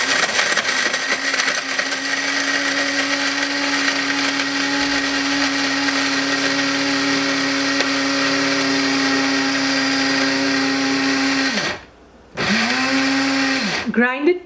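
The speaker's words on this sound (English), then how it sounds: "So I'll start dry grinding." Spice grinder dry grinding biryani masala powder, a steady loud high whine that runs continuously, cuts out briefly near the end, then starts again.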